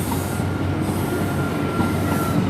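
Train departing Exeter St Davids station, heading off toward Penzance, a close, loud rumble of rolling wheels with rail clatter and a faint squeal, steady throughout, no talk.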